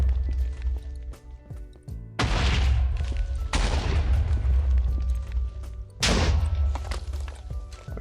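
Shooting shulkers in Minecraft with the Pixelmon mod, with three loud booming shot bursts, each followed by a decaying rumble, over a low steady game background.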